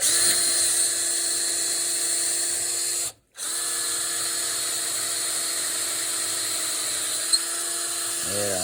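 A power drill fitted with a wood, PVC and metal bit whines steadily and close while repairing a shovel handle. It cuts out briefly for a moment of silence, then resumes at the same pitch.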